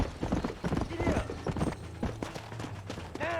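Horse hooves clip-clop in Red Dead Redemption, a quick rhythmic run of hoofbeats with a brief whinny, heard under a voice talking over the game.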